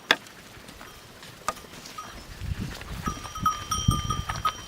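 A herd of goats on a farm, with tinkling bells ringing at moderate distance and soft shuffling movement building toward the end, no voices.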